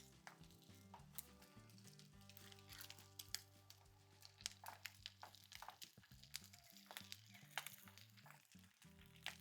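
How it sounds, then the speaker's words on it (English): Eggs fry in a pan with a quiet, scattered sizzle and crackle, heard alongside soft background music. "Fry your eggs for around 45 seconds to a minute"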